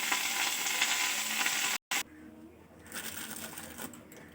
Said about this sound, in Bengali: কপিটা একটু ভেজে নিই